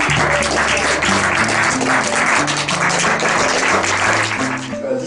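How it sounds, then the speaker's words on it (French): Audience clapping for volunteers at a live show, loud, dense applause rolling steadily over sustained background music, easing off only near the end. "On peut l'applaudir à les volontaires."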